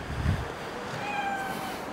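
A single short cat meow near the start, fairly close, followed by faint high-pitched tones and background noise, with no talking.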